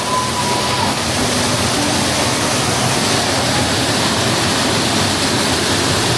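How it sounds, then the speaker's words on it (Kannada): Waterfall at Robber's Cave in Dehradun, Uttarakhand, heard as a loud, steady broadband roar of rushing, splashing water that continues without a break and has no talk over it. "ಗುಪ್ಚಿಕ್ ಫಾಲ್ಸ್ ಏನೋ ಅಂತಾರೆ"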